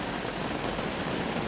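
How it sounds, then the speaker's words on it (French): Summer rain falls in a dense, steady hiss of patter on surfaces, close and continuous with no voices. "Aujourd'hui, je vous parle depuis un dimanche sous la pluie."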